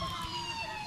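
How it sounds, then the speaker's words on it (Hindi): An ambulance siren wails faintly and steadily in the background for a brief moment, with no other distinct sounds. "एम्बुलेंस की आवाजें"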